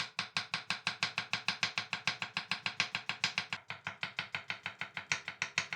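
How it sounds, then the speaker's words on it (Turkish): Rapid, steady knife chopping of onions on a cutting board, dozens of crisp even strokes in quick rhythm, close and loud with no talking. "Tarifim için 3 tane de soğan kullanacağım. Bunları da piyazlık bir şekilde doğruyorum."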